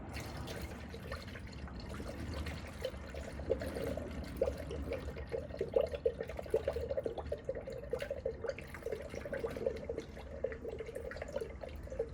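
Coolant poured into a Mishimoto aluminum coolant tank on an FL5 Honda Civic Type R, a steady soft trickle and dribble of liquid running the whole time, close and fairly quiet.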